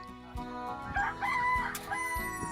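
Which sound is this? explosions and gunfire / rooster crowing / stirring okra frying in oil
rooster crowing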